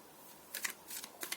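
Tarot cards are shuffled in three quick crisp bursts, each a short riffling flutter, close and fairly quiet with pauses between.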